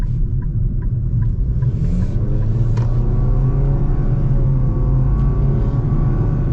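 A 2025 Nissan Kicks SUV with an Xtronic CVT accelerates, giving a loud, steady engine rumble and rising whir heard from inside the cabin, with no talking.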